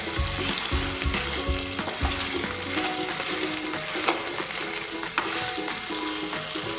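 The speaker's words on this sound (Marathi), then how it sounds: "आता आपण यात अद्रक लसूण पेस्ट टाकून घेऊयात. आणि यालाही छान असं मिक्स करून घ्यायचं आहे." Ginger garlic paste sizzles steadily in a hot pan for a potato bhaji, with a spatula scraping and stirring in a repeating rhythm, close and clear with no voices.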